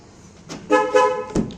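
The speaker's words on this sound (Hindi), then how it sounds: "अब हॉर्न चेक करो, प्रॉपर बज रहा है" Two short honks of a 2013 Hyundai Grand i10 diesel car horn after a wiring repair, close and clear, with a brief click or thump just after.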